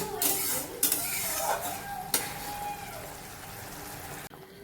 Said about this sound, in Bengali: এখন মশলাটাকে ভালো করে কষিয়ে নিচ্ছি